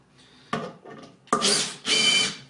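A power drill driving screws into the panels of a Patiocomposteur 500 composter. It gives a short whir, a softer burst, then two longer close buzzing runs, with no talk.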